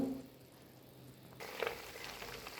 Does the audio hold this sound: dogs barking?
no